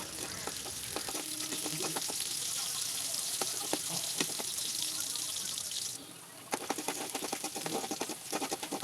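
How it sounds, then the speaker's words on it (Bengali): Chopped onions sizzle steadily in hot oil in a pan for chicken biryani, a close, dense crackle with scattered pops and stirring clatter, dipping briefly before surging back. "এখন একই পাত্রে পেঁয়াজ বেরেস্তা করার জন্য পেঁয়াজ কুচি দিয়ে দিব"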